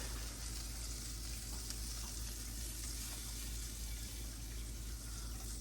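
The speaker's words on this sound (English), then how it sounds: "Always like to fry them in butter." Venison inside straps fry in butter in a pan, producing a steady, even hiss that stays constant throughout over a low hum, with no one speaking.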